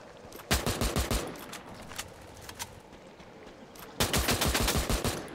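Two rapid bursts of A94 automatic gunfire in a video game, one near the start and one near the end, each a fast rattle of close shots, with scattered single shots between.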